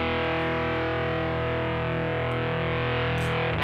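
Guitar played through distortion programmed on a Sigma DSP ADAU1452 with speaker simulation enabled, a sustained fuzzy, saturated chord ringing steadily and loud for the whole stretch without any voices.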